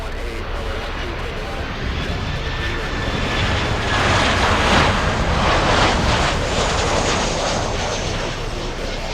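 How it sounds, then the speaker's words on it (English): A fixed-wing airliner at Miami airport, a loud sustained engine roar with wind buffeting the microphone, swelling slightly midway and continuing without a break. "Plane that sounds like a train"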